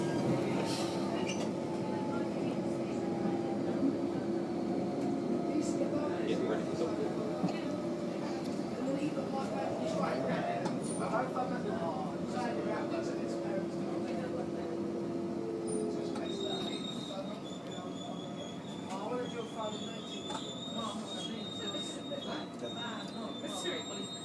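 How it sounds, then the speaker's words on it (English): A London Underground Central Line train rumbles steadily as it runs, with a sustained tonal whine from the motors and a constant rail roar that stays loud throughout. A recorded announcement and voices are heard over it. "This is a Central Line train to Woodford via Hainault."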